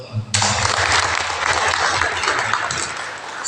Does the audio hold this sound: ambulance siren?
no